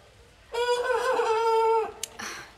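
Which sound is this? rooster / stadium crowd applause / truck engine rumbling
rooster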